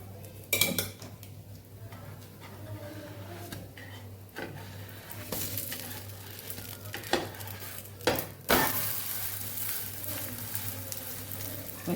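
Bottle gourd pudla cooking in ghee on a pan, a faint sizzle under clinks and scrapes of a spatula and lid as the pancake is turned, with no one speaking.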